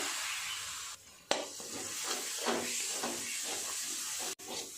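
Prawn filling simmering in a tomato curry sizzles and hisses in a pan while a utensil stirs it in repeated scraping strokes, close and moderately quiet, with one sharp clack partway through.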